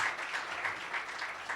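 Applause rises from the audience at a church branch dedication and inauguration ceremony in India, a brief, fairly faint patter of many hands clapping with a slight rhythmic pulse.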